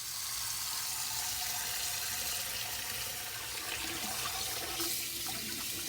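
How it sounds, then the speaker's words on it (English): Tap water runs steadily over saltfish being washed in a kitchen sink, a continuous close hiss and splash with slight shifts as the fish is handled under the stream. "I'm gonna wash my saltfish"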